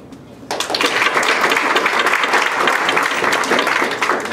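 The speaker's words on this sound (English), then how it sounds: "I want you to clap if you do not have a tattoo." Comedy club audience breaks into loud, sustained clapping after a brief quiet moment, a dense wash of many hands close and steady throughout.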